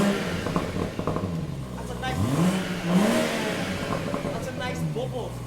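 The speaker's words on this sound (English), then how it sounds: "I just want you to listen to the engine," A 2019 BMW M140i Shadow Edition with its 3.0 engine and tuned exhaust revs up and falls back, the rising and falling pitch sweeping through a steady, fairly loud drone while someone talks over it.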